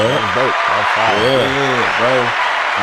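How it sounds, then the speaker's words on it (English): Audience applause on a podcast set, a steady wash of clapping lasting about three seconds with a voice talking over it throughout. "Round of applause for that."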